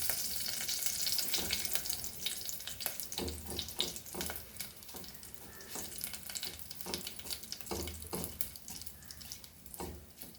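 Shredded cabbage sautéing in a pan, a soft sizzle with repeated scraping and stirring strokes of a spatula, fairly quiet and close, with no voices.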